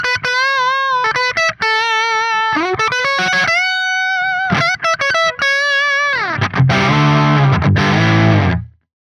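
An electric guitar plays through a Neural DSP Soldano SLO-100 amp plugin with the treble cranked high. Bright, distorted single-note lines and bends lead into heavy, crunchy palm-muted chugs that stop abruptly.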